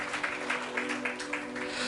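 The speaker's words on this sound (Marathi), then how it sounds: "जरा जोरदार टाळ्या प्रभूच्या गौरवासाठी." A congregation claps at a Marathi church service in quick, uneven bursts of moderate loudness, with a steady hum underneath.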